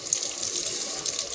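Running tap water splashing over fresh vegetables being washed in a sink, a steady soft hiss and patter that continues evenly throughout, fairly close and quiet.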